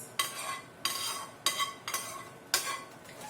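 A spoon scrapes and clinks rhythmically in a pot as fried egusi is stirred into Nigerian egusi soup, five or so distinct stirring strokes, close and moderately loud with no talking.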